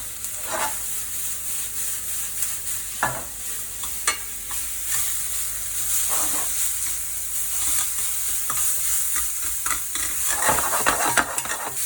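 Gnocchi mushrooms, sliced very thin, sizzle steadily in a very hot pan, with a bright frying hiss throughout and repeated scraping and stirring strokes. No one speaks.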